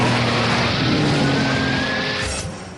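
A Bugatti Veyron launches hard off the line in a race against a Eurofighter jet, a loud engine roar with rising whine and tire noise that swells then fades slightly at the end.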